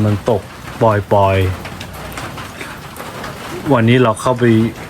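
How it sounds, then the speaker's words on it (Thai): Rain falls in a steady, soft hiss beneath a close voice talking, the patter filling the pauses between phrases. "ฝนมันตกอะ่ะ พี่ได้ยินกันไหม ฝนตกปล่อย ๆอ่ะ"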